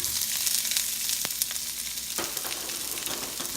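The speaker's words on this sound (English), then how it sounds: "We're gonna stir fry the onions." Onions stir frying in oil in a hot pan for Korean japchae, a steady, close sizzle throughout with occasional scrapes and taps from stirring.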